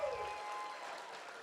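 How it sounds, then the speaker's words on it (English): Applause from guests at a charity auction, a short, even patter of clapping heard from a distance, fairly quiet. "Huge round of applause for all the generous people that gave."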